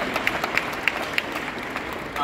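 Audience clapping at a talk on communication and leadership, a steady patter of applause running the whole time with a few sharper claps standing out, and a brief voice near the end.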